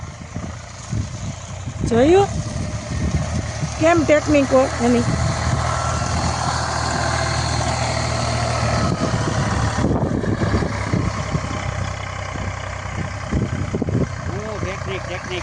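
A tractor's engine runs steadily in reverse, a low rumbling drone that holds throughout while people talk over it nearby, with a few short whistle-like tones early on.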